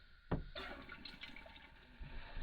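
Water rushes into a residential toilet installed in an RV after a sharp click, filling with a soft, continuous hiss and gurgle, quiet and close.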